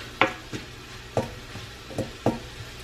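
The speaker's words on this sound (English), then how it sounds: "Let's stir that around" A spoon stirs pepper flakes and Cajun seasoning into red beans simmering in a pot with ham hocks and smoked sausage. Four or five distinct scraping clinks land at a steady, unhurried pace over a low simmer.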